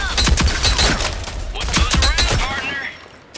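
Heavy gunfire from a big gun in the video game Rogue Company: rapid, loud bursts of shots fired back to back, close and dense, tapering off near the end.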